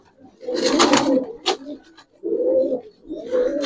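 Giribaz silver pankhi pigeons coo in low, throaty bursts, two or three cooing phrases separated by short pauses, close and moderately loud, with a brief flutter or scrape between them and no talk.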